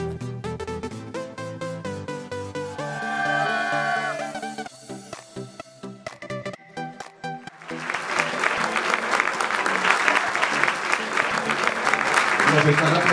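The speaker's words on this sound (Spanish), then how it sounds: "Nos están aplaudiendo los mejores programadores del país." Programmers at a national programming contest break into applause, a swelling wave of clapping that builds loud and sustained after a stretch of music, with voices mixed in.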